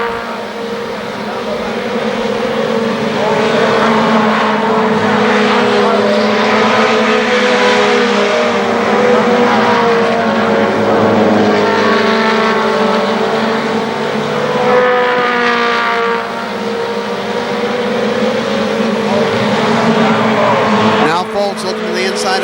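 Race cars at KilKare Speedway during the Labor Day Championships roar side by side out of turns three and four, a loud continuous engine drone with rising and falling revs, under steady announcer commentary.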